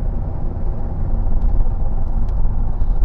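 Steady low engine rumble from a 1996 Lotus Esprit V8, a smooth, even drone heard from inside the car with no speech over it.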